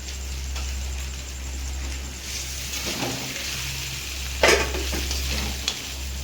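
Fish heads fry lightly with ginger garlic paste in a pan, a soft steady sizzle under a low hum, broken by a few spoon scrapes and one sharp clank near the end.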